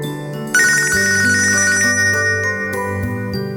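A telephone rings with a bright electronic ringtone melody, loud and close, playing continuously over a steady tonal background with no talking.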